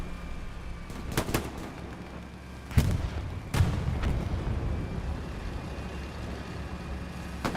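Rocket and artillery blasts land in the video game Hell Let Loose at Carentan Train Station: a few sharp booms, two close together early and others a couple of seconds apart, with rumbling tails over a low background din.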